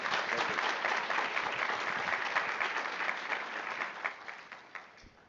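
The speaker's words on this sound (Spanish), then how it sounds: "les pedimos un fuerte aplauso para el diputado Santiago Krill Miranda" An audience at a Harvard Club of Mexico event applauds a deputy, a dense, steady crowd clapping that thins and fades toward the end.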